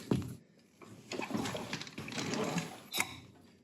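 Ratcheting turns of a wrench on the engine crank of a Volkswagen while fitting a belt, a few short mechanical clicking and whirring bursts in quick succession, close up and fairly quiet.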